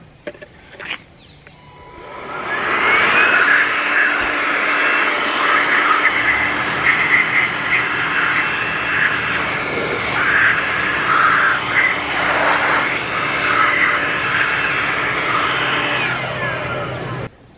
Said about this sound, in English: to blow away this dust, I like to use the Bauer little battery-powered blower